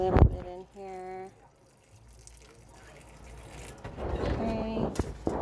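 Water is poured from a container into a potted houseplant, a gentle trickling and dripping that builds toward the end, preceded by brief speech.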